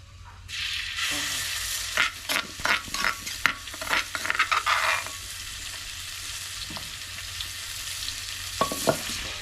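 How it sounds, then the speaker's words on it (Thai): Dried chilies dry-roasting in a pan, a dry rustling hiss broken by a run of scraping stirs, then a quieter steady sizzle with one last scrape near the end. "เดี๋ยวจะทำการคั่วพริกก่อนเนาะให้มันหอมก่อน"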